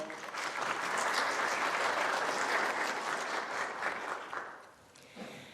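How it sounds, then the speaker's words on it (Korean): A youth council audience in Daejeon applauds their council chair after a speech, a full, even round of clapping that tapers off near the end. "다시 한번 좋은 말씀 주신 의장님께 큰 박수로 화답해 주시기 바랍니다"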